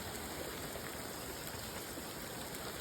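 Steady rain falls in an isolated shower over a hillside estate among trees, a soft, even hiss of drops that holds faint and constant throughout, with no voices.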